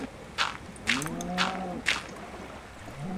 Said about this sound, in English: There's some cows.